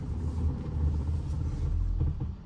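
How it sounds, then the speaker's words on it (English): Low rubbing rumble from a Tesla Model X as the steering wheel is turned while the car sits stopped, a continuous muffled grinding drone heard from inside the cabin with no talking. "I'm stopped and I'm trying to turn my steering wheel."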